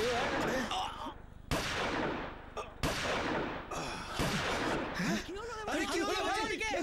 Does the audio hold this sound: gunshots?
yes